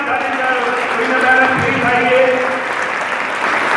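Audience applause at a college alumni and parents meet, a dense, steady wash of clapping from a crowd welcoming a professor to the stage, filling the whole stretch with faint voices beneath.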